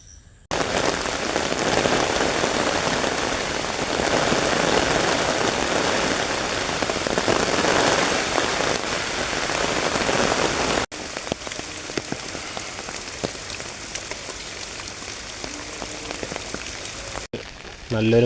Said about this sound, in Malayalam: നല്ല രീതിക്ക് ഒരു മഴ വരുന്നുണ്ട്.